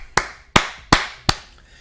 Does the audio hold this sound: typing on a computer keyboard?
no